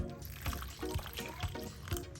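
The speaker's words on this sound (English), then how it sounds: "Just gonna mix it and also add water to it." Water is poured into a peanut soup mixture, a steady liquid pour and splash with soft rhythmic thuds underneath, close and fairly quiet.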